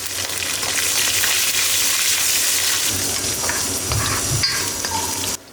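Garlic, fennel, curry leaves and ginger fry in a pan for mutton bone curry, making a loud, constant sizzle with some stirring movement that cuts off abruptly at the end, with no talking.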